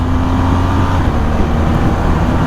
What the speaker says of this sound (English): That down blipper is quite sweet. The downshifting blipper.